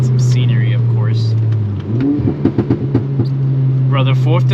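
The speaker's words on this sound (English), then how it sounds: "Brother, 4th to 3rd in this car, I love that rev match so much." A VW MK6 Golf R blips its engine on a rev-matched downshift from fourth to third gear on a rainy mountain road, a quick revving rise heard under steady cabin road noise while a person talks.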